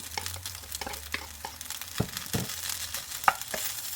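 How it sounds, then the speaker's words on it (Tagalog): Egg, hotdog and fried rice with chopped spring onions and scrambled egg being stirred in a pan, giving repeated close scraping strokes over a steady frying sizzle. "At paghalu-haluin na natin lahat."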